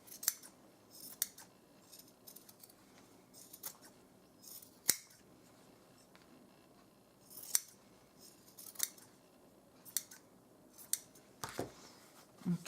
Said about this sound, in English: And then I'm going to just trim off these points. Make sure I don't cut my lace.